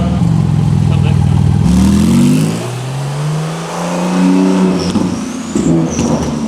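A Porsche GT2RS with straight-piped exhaust revs loudly nearby, its engine note rising and falling through several throttle blips, with a voice talking over it.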